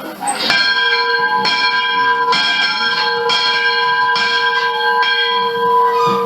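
A large trophy bell for a high school football rivalry game rings in steady repeated strikes, about one per second, each clang sustaining a bright tone over the next, loud and close.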